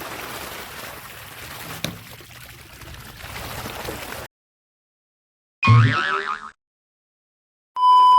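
Water gushes from a pipe into a small tank, a steady rushing pour for about four seconds that stops abruptly, followed by silence, a short warbling boing-like effect and a sustained tone at the end.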